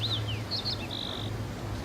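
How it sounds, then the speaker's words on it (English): Birds chirp in the video game Life is Strange, several short high tweets and a longer whistled note over a steady low ambient hum, fairly faint and without speech. "Like, yeah, there's like birds."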